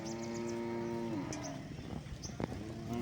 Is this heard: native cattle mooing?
yes